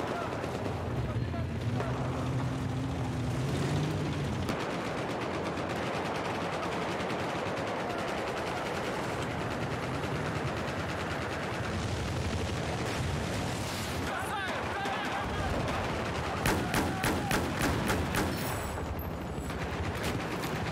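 Gunfire in the video game Battlefield 4 fills a dense, continuous battle soundscape with rapid shots and bursts, while a player talks over the constant din.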